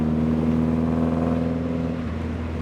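A Morgan Plus 4 in third gear pulls hard under a steady, throaty engine drone with a strong low hum, easing slightly near the end as the throttle lifts; no voices over it.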